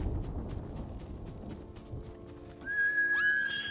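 A horse in the video game Ghost of Tsushima gives a whinny near the end of the clip, over soft hoof clatter and outdoor game ambience, with no talking.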